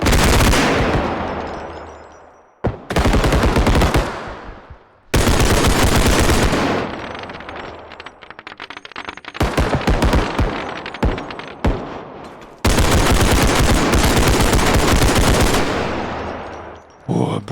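Rapid bursts of automatic gunfire in a bodycam-style shooter video game crack out in long loud volleys separated by brief pauses, with sporadic single shots and faint rattles in between.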